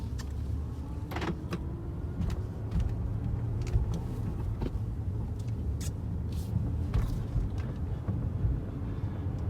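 A BMW E60 car engine hums steadily at low pitch inside the cabin while driving, with occasional soft clicks and creaks.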